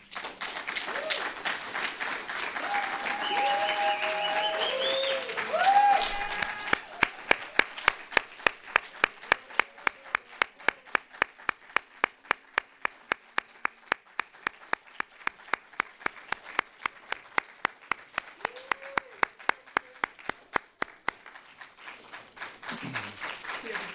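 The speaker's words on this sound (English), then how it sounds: "I want you all to give a standing round of applause for all these artists who blessed us this evening" An audience gives a standing ovation for performing artists, starting with a brief musical tail and voices before settling into a long stretch of rhythmic, unison clapping that fades toward the end.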